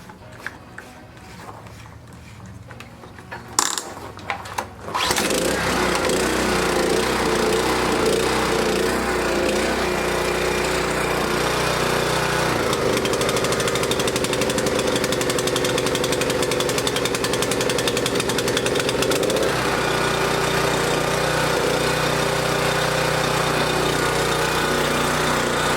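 A small gasoline engine with a rebuilt carburetor, just refuelled, comes to life after a few knocks and pulls and then runs loud and steady for about twenty seconds.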